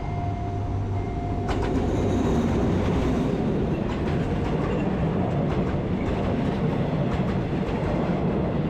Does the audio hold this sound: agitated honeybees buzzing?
no